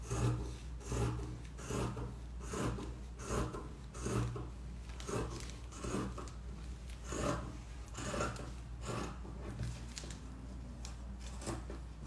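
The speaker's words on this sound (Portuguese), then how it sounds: "Cortando no ligeirão aqui." Fabric being cut quickly, heard as a steady series of close, rhythmic snipping and rasping strokes that repeat about every half second throughout.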